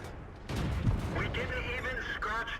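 A tank cannon in the World of Tanks video game fires with a sudden, heavy boom that rolls into a long rumble, and a voice talks over the tail.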